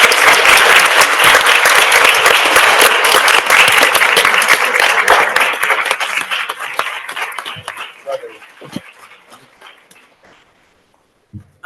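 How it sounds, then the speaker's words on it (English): Loud, sustained applause from the audience at a city council meeting during a Women's History Month celebration, dense clapping that gradually thins and fades out, with a few scattered claps near the end. "glad y'all clapping for me too"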